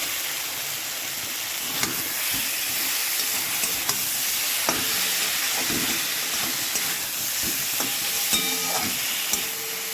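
Salted fish goes into a thick frying curry in a pan and is stirred, a constant close sizzle and hiss with scattered scraping and clinking stirs.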